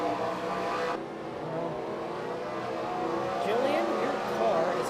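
Stock cars roar around Martinsville Speedway in the NASCAR Racing 2003 video game, engines revving and droning continuously while a voice talks over them.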